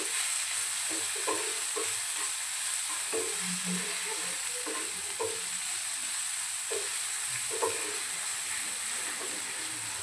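Broken-wheat daliya sautéed with salt in a pan gives a steady, hissing sizzle with soft scraping strokes from stirring throughout, close by, without talking.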